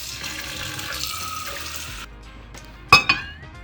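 Water poured from a cup into a bowl of pancake mix: a steady running, splashing pour for about two seconds, then it stops and is followed by a couple of sharp knocks, with no talking.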